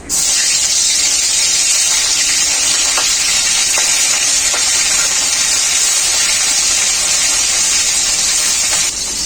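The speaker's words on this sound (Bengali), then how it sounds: "তেলটা খুব ভালোভাবে গরম হয়ে গেছে মাছগুলো আমি ভেজে নেব" Singhi fish fry in hot mustard oil in a kadai, producing a loud, steady, hissing sizzle that holds without a break, with a few faint pops scattered through it.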